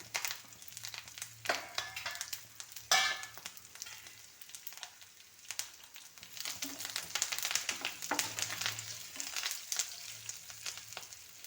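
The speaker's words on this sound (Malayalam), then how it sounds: "പച്ചമുളക് ഇട്ട് രണ്ട് മിനിറ്റ് വഴറ്റിയതിന് ശേഷം വീണ്ടും കറിവേപ്പില ഇട്ട് കൊടുക്കാം" Green chillies and curry leaves sautéing in a hot pan, a steady close sizzle and crackle with occasional stirring scrapes and bursts of spitting oil, no voices.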